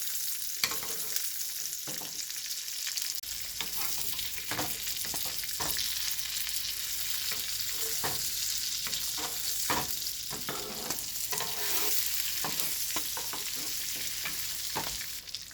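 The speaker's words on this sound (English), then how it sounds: "So we're going to keep basting and just let it simmer a couple more minutes" Salmon sizzles in butter in a frying pan under continuous basting, with a constant close frying hiss broken by frequent spoon clinks and splashes throughout.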